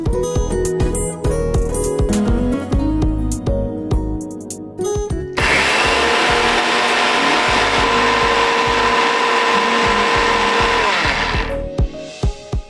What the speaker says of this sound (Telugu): మిక్సీ పట్టుకుని వచ్చేసేయండి.